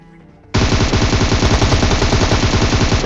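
A laser gun fires in the video game Free Fire, a loud rapid burst of automatic shots that erupts suddenly after a quiet moment and keeps up a steady fast rhythm to the end.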